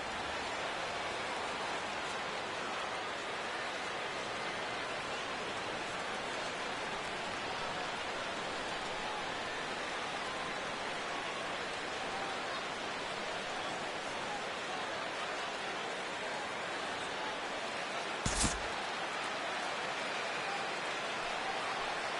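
Steady rain falls over a ballpark in the MLB The Show baseball game, a constant even hiss throughout, with a single brief sharp knock near the end.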